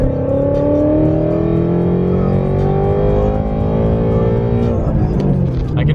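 A 2017 Shelby GT350 V8 revs hard and steadily while drifting, its engine note loud and close, rising and falling through the whole stretch with no talking over it.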